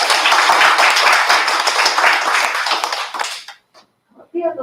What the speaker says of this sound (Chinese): 那我们就可以一起鼓掌